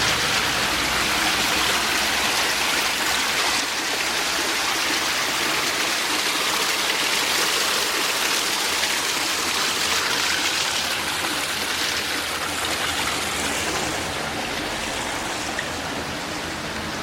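The creek in Spearfish Canyon rushes steadily along, a continuous close wash of flowing water that neither builds nor fades, with no talking over it.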